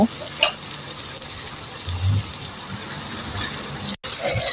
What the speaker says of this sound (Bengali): আমি এখন উল্টিয়ে দিলাম, ভালো করে